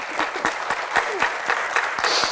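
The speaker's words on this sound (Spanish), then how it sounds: "Un aplauso para ella para darle la bienvenida" An audience at a medical lecture on stroke treatment applauds to welcome a speaker, with steady dense clapping and distinct individual claps cutting through throughout.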